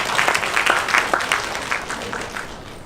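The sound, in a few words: audience applause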